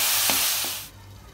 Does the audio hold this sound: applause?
no